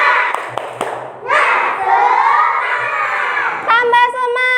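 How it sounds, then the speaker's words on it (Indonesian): A class of children performs the 'tepuk semangat' clapping chant before an Islamic studies lesson, with sharp claps followed by loud shouted chanting in unison. A teacher's voice joins at the end. "Yuk, tepuk semangat."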